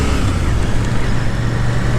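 A Royal Enfield Shotgun 650 motorcycle being ridden gently, its steady engine rumble loud and close with continuous road and wind noise.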